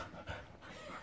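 A small dog panting close by, quick soft breathy puffs in a brief, quiet burst, with a faint low whimper-like sound partway through.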